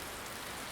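Steady rain pours onto a surface as a dense, even hiss with scattered drop patter, constant and close throughout, with no voices.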